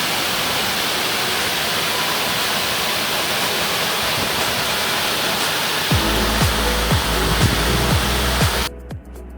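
Vilangad waterfall in Kozhikode district roars as a loud, steady broadband rush of falling water, with a deeper rumbling burst near the end before the sound cuts off abruptly.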